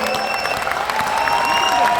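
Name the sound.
audience applause for Mookuthi Murugan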